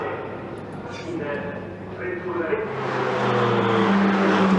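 Ferrari Challenge Europe race cars circle the Monza circuit under a safety car, their engines a steady, rising drone that grows louder toward the end, mixed with crowd or commentary-like background noise.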